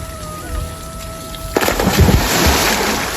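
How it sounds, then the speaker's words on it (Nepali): Rain suddenly begins pouring and splashing nearby, with water dripping and spattering onto surfaces in a steady, loud outdoor downpour. "पानी चुम्लिरहेको छ क्या फेरि यहाँ"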